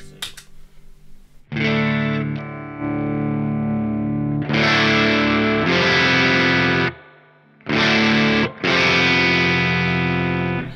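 An electric guitar played through an overdrive pedal set on top of a clean amp channel rings out in sustained, crunchy distorted chords with a few pauses, loud and close, with no talking.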